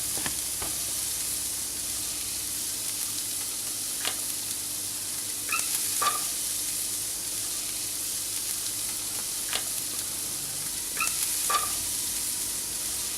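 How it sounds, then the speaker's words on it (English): Chopped onions sizzle steadily in hot extra virgin olive oil in a large pot, a close, continuous crackling hiss with occasional soft stirring clinks. "Let it heat, and then add the chopped onions."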